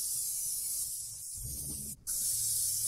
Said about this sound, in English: I'll spray the bottom first, just because it's a little bit bigger and it's easier to do it this way.